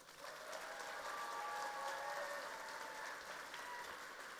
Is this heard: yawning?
no